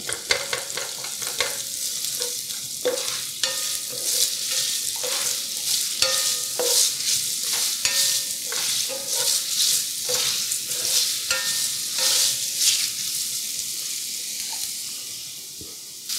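Onions sautéing in oil in a pan for beef pepper steak, stirred with a paddle: a steady sizzle with repeated scraping strokes throughout, close and fairly loud, and no talk.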